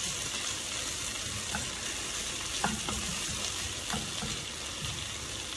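Onions and mixed vegetables browning in a hot pan for island-style pork fried rice, with a steady, loud sizzle throughout and a few faint stirring knocks.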